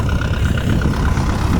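A tractor working a farm field runs with a steady, loud, low engine rumble that stays even throughout, with no voices over it.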